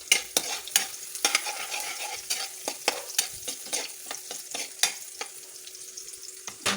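Stirring and frying in a wok-style pan as garlic is browned until fragrant, with continuous close sizzling broken by frequent scraping utensil strokes and clanks in an irregular rhythm.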